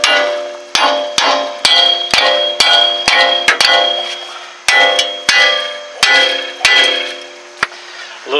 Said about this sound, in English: grab a hammer and hit it a couple times.